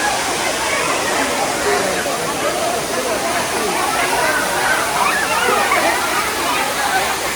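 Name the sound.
flowing water stream at Tirumala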